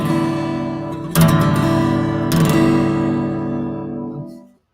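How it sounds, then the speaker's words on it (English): A 6-string acoustic guitar strummed twice, each chord ringing out bright and full before decaying to silence, played alone and close. "So if you hear a 6-string,"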